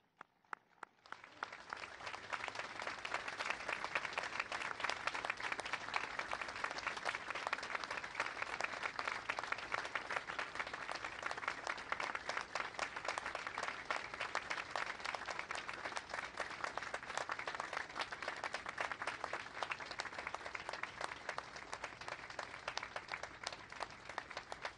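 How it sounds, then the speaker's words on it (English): An outdoor audience at a Pearl Harbor remembrance ceremony claps in a continuous, even wave of applause that rises quickly from silence and holds for over twenty seconds, sounding fairly distant and soft. "A grateful nation applauds you today"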